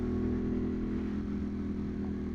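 Engine of a Ducati Monster 821 Dark motorcycle while riding, a steady mid-pitched drone with a constant low throb, close and unvarying throughout, with no speech.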